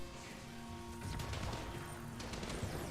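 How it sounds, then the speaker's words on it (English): Distant gunfire in the video game Warframe, a quiet run of clattering shots and crashes over a low hum, getting a little busier after the first second. "But I do hear an unusually large amount of gunfire."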